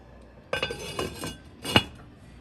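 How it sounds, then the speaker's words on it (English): A lid goes onto a pot of beef stew with a few sharp metallic clinks and clatters, the loudest at the end, close and quiet in between, with no talking. "I'm gonna put the lid on it"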